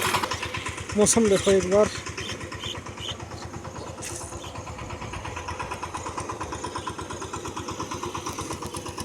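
A VST Shakti 130 DI power tiller engine runs steadily in a paddy field during puddling, its rapid chugging loud and continuous, with someone speaking briefly near the start.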